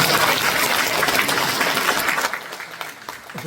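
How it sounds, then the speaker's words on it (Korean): An audience claps after a speech at a formal event in a National Assembly conference hall. Dense, loud applause fills the room, then thins and fades toward the end. "다시 한번 큰 박수 부탁드리겠습니다"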